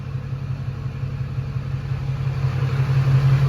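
A truck engine idles steadily while warming up after a new transmission install, a close, constant low rumble that swells slightly toward the end, with no talking.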